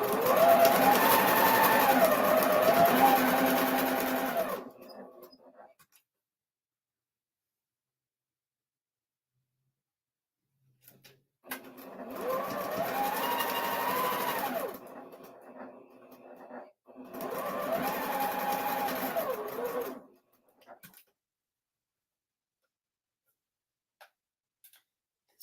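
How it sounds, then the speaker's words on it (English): A sewing machine stitching gemstones onto fabric runs in three long bursts of rapid, even mechanical whirring with a tick-like rhythm, close and loud, with near silence between bursts. "I cannot see me sewing at all. I'm like, am I sewing? It sounds like I am."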